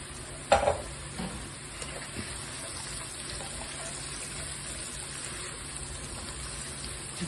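Ginger and coriander drop into hot oil in a pan for a Malaysian egg dhal. A soft splash is followed by steady quiet sizzling and occasional stirring scrapes, with no talking.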